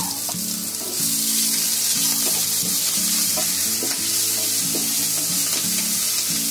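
Onion, green chili and cumin sizzling in a pan, a steady bright frying hiss with repeated stirring scrapes and clinks, no talking.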